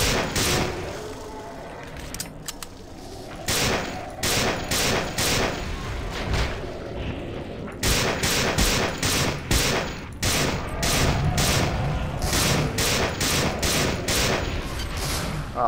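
Rapid, loud gunfire in the 1999 sci-fi shooter System Shock 2, repeated bursts and volleys of shots over about fifteen seconds, close and dominant, with a faint background hum and no talk.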